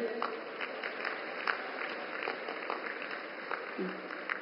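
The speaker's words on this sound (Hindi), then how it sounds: "मैं सबसे निवेदन करता हूं कि जोरदार ताली बजाकर उनका स्वागत करें" Crowd applause at a public election rally in Betul, Madhya Pradesh, welcoming Narendra Modi: steady, dense clapping from a large outdoor audience, moderately loud and continuous with a faint voice near the end.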